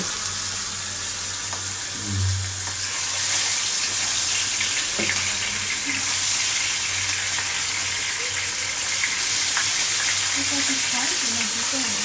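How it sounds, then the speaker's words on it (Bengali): Pangas fish frying in a pan in a home kitchen while spinach and pabda fish are also being prepared, giving a steady close sizzle with a few clinks and faint tap-water sounds. "রান্না করা হবে পাঙাশ মাছ ভাজা শুরু হয়ে গেছে"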